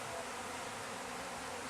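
Bees swarm around a swarm trap, a steady dense buzzing of many insects that stays constant and close throughout, with no talk.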